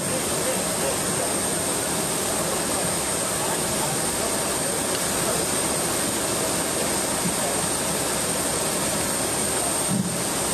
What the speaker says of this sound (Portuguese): Essa aeronave que nós vemos na imagem do canal Gov